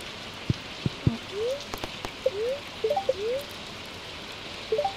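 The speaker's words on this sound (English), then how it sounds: "Oh, it's a rainy day." Rain in the video game Stardew Valley falls as a continuous soft hiss under scattered clicks and short chirpy tones, steady and moderately close, with no talk.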